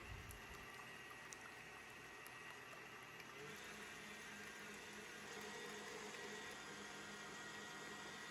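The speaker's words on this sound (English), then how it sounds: "Let's cream the eggs and sugar. Whisk them at high speed." An electric mixer whirs continuously at high speed, whisking eggs and sugar with a steady, even drone that stays unchanged from start to finish, with no voices present.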